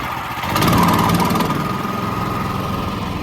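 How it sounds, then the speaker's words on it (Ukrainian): A wood chipper's mid-sized engine idles steadily with a low pulsing drone, swelling briefly at the start before settling into an even running throb, with no talk. "Дамо йому трішечки попрацювати на холостих обертах."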